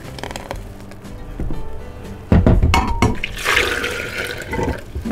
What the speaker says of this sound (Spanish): vamos a agregar más agua